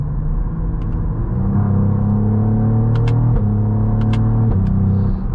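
A 2024 Cadillac CT4-V Blackwing with a 3.6-liter twin-turbo V6 runs with a loud, steady rumbling drone, its pitch stepping up through revs with a few brief sharp crackles and pops over the top.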